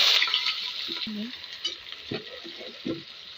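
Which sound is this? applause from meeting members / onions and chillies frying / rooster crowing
onions and chillies frying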